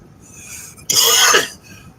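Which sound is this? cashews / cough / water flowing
cough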